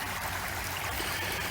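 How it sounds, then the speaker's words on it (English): Water of a river flowing just below a bridge at Sunnyside on the South Branch gives a steady rushing and trickling wash, close and constant, with no voices. "This is a shot of the river just below the bridge."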